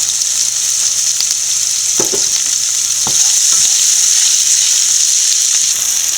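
Onion, ginger, garlic and green chillies sauté in a pan with a loud, steady hissing sizzle, a few scrapes and taps of a spoon stirring breaking through around the middle.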